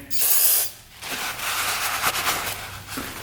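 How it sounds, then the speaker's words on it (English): Brake cleaner sprays from an aerosol can onto a rusty 2-stroke dirt bike, with a loud, close hissing blast at the start and then further shorter sprays and hisses. "Little brake cleaner."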